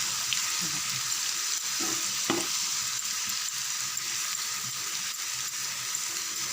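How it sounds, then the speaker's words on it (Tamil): Onions with ground masala paste, mint and cumin fry in a pan for egg gravy, giving a steady close sizzle with a few soft stirring knocks. "வெங்காயம் சீக்கிரம் எல்லாமும் நல்லா வறுத்துடுங்க"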